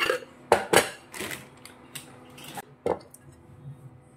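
Fried makhana is shaken with salt and masala in a closed container, giving irregular rattling bursts and soft thuds at close range, with no talking.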